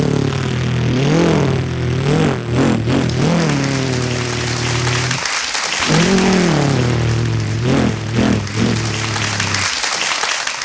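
A man vocally imitates a grass cutter on a comedy stage, producing buzzing, revving engine-like tones that rise and fall in two long bursts separated by a brief pause, with crowd noise around.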